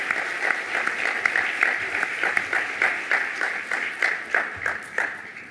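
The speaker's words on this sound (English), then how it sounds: "Let's give them another round of applause." An audience applauds young performers from Mongolia at a climate change conference event, with steady, dense clapping that holds for the whole stretch.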